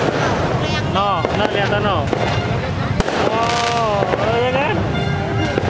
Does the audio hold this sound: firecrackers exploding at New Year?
yes